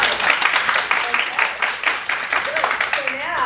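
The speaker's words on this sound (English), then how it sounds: "Let's give her a nice round of applause" Audience at an improv comedy show claps in a sustained round of applause after a scene, fairly close and lively, with a few voices and laughs surfacing over the clapping.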